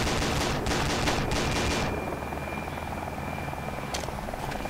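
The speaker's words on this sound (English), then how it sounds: "Enemy fire." Gunfire in a realistic military shooter game, loud bursts of rapid shots in the first two seconds over a steady helicopter-like engine drone that continues after the firing stops.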